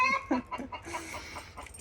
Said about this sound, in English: The dog just scared the chicken.